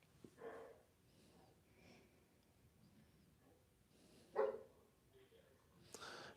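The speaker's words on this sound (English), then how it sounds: "These are farm dogs." Farm dogs barking faintly at a distance in an outdoor setting, a few scattered barks and snorts spread over several seconds against quiet background noise.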